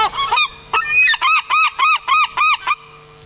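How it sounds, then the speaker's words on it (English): A large bird, tagged as goose-like, lands near a backyard barbecue and lets out a loud, close honking cry: one burst, then a quick series of six evenly spaced repeated honks, with no talk. "this bird came and landed down and let out an almighty cry"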